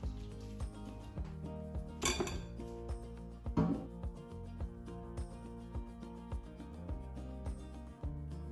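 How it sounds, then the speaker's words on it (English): Rinsed cauliflower added to a dish for cauliflower tikka masala, a series of clinking, clattering knocks against a metal or glass dish, with two louder clanks standing out, close and fairly quiet. "Add all the rinsed cauliflower in."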